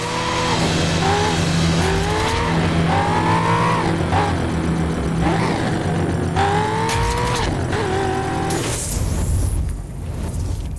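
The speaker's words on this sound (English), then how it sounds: "a dirt car that is built for going across rocky terrain" A dirt car built for rocky terrain races in The Crew video game, its engine loud and continuous with rising revs, gear shifts and tire squeals, ending in a burst of skidding and crashing noise.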